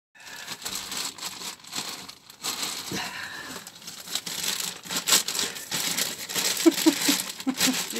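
Plastic bag crinkling and rustling close by during an oil change on a Volvo Penta MD2020 marine diesel engine, irregular crackles and handling noises throughout with no speech.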